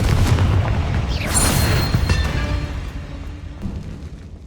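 A Confringo fire spell goes off as a loud, booming blast in Hogwarts Legacy, one heavy burst with a rushing, crackling tail that fades over a few seconds.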